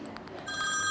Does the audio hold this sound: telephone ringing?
yes